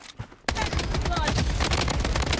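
Dense automatic gunfire rattles in a shooting video game, starting abruptly after a brief quiet moment and continuing as a loud, rapid burst close to the listener.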